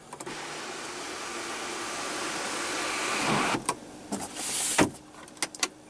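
Electric sunroof motor on a 2016 Mazda 6 2.5 L sedan hums steadily inside the cabin for several seconds, followed by a few sharp clicks and a brief whirring stop near the end.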